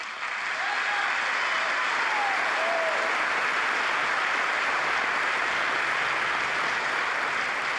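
Members of the US Congress applaud during a speech by Netanyahu, producing dense, steady clapping that holds at an even, moderate level throughout.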